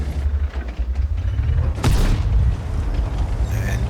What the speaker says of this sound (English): And blind shots into where he was last seen.